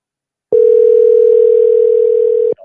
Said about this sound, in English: I'm gonna give her a call right now.